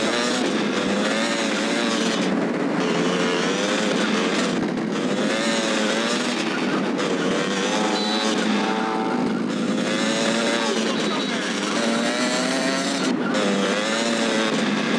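A motorbike engine in GTA Liberty City Stories drones loudly and steadily throughout, with wavering pitch as the revs rise and fall, under game music.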